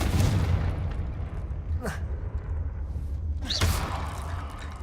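Confringo blast spells in Hogwarts Legacy fire twice as sharp whooshing cracks a couple of seconds apart, standing out over a dense low game rumble.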